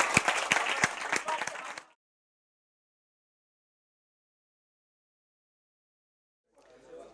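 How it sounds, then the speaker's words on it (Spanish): Brief audience applause at a business creativity and innovation event, a short patter of clapping hands that fades out after about two seconds, followed by silence. "un aplauso enorme y muchas gracias"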